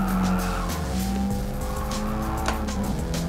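A race car's engine drones steadily while its tires squeal and skid in Gran Turismo Sport played in VR, the sustained screech loud and close.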